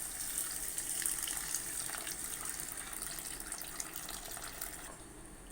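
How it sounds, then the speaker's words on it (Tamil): Water pours into quail gravy in a pan with a soft, steady gushing rush, close and quiet, lasting several seconds before tapering off. "இப்போ இதில் தண்ணி நம்ம சேர்த்துக்கலாம்."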